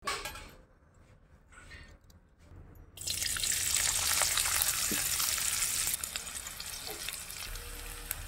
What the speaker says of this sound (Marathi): आता आपण कांदा लाल भाव परतून घेऊया